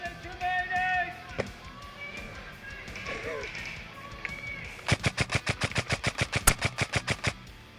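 An SSR4 airsoft rifle fires a rapid burst of about twenty crisp, snapping shots during a village assault game at No Mans Land Airsoft, preceded by a voice and faint background noise.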